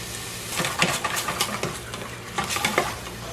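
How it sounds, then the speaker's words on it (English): Onions, garlic and ginger sautéing in a pan, a close sizzle broken by repeated spatula stirring and scraping strokes, with no voices. "So I saute the onions for 2 minutes, and then I add the ginger and garlic, saute that for 2 minutes."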